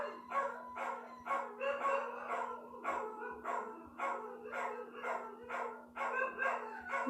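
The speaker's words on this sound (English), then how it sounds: "we're just going to ignore those dogs." Dogs keep up continuous overlapping barking and yowling, rhythmic and fairly loud from a short distance, over a constant low hum.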